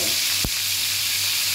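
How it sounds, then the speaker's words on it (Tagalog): Red snapper (maya-maya) fish fries in hot oil with a steady, dense sizzle and crackle close up, broken by a single brief thud near the start. "piniprito."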